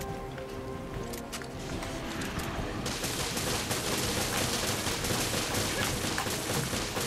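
Gunfire rattles in Resident Evil Revelations Raid Mode, a co-op shooter: dense rapid shots run continuously and loudly, building to a sustained fusillade after a few seconds.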